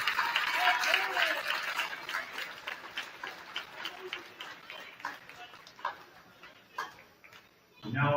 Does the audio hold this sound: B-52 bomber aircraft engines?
no